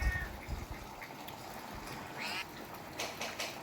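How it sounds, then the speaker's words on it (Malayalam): A cat gives a couple of short meows amid quiet household background noise, fairly faint and spaced apart. "ഇതെൻ്റെ പൂച്ചയാണ്."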